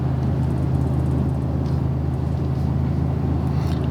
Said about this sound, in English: So let's see how the truck downshifts.